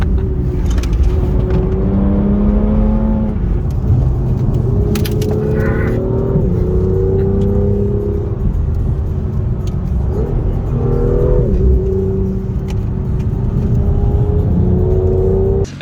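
A car accelerates around a track, its engine note climbing and shifting through gears with a loud, continuous rumbling drone heard close up from start to finish.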